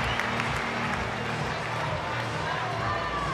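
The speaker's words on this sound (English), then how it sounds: "Big cheer for Cooper" The crowd at an indoor swimming arena, the 25m World Championships in Melbourne, cheers loudly and steadily for swimmer Isaac Cooper. The dense applause and roar are joined by an announcer's voice.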